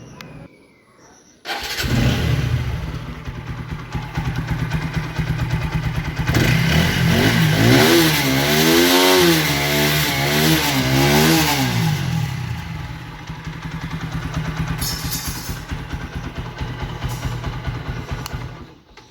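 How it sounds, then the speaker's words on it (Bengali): A TVS Apache RTR 4V motorcycle, a used bike in like-new condition, starts up and runs loud and close, its engine climbing through several rising and falling revs mid-clip before settling back to a steady idle. "এখন আপনাদের ইঞ্জিনের সাউন্ড শোনানো হবে।"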